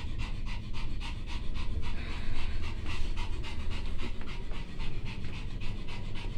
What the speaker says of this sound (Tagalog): Grabing hingal niya.